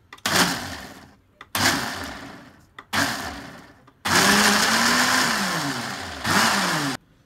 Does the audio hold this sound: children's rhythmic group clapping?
no